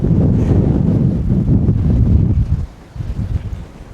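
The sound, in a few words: strong wind blowing at hilltop fortress ruins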